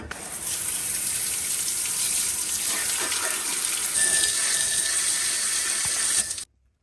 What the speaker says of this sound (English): Hopefully now we can rinse the remaining dirt off.